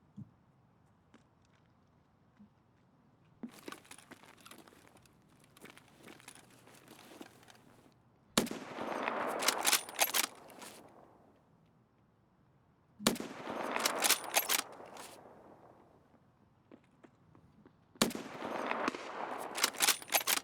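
Rapid automatic gunfire in Escape from Tarkov comes in three loud bursts separated by quieter stretches, with crackling echoes trailing each volley.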